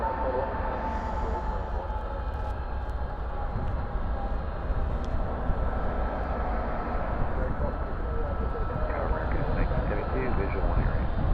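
Jet airliners such as a Boeing 747 and an Airbus A300 at Dallas/Fort Worth airport, a steady broad engine roar held at moderate distance through the whole stretch, with someone talking over it.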